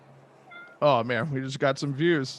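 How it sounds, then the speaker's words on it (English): A house cat meows several times in quick succession during a podcast recording, drawn-out, tonal calls close to the microphone, overlapping with people talking. "Apologize if you can hear a cat meowing."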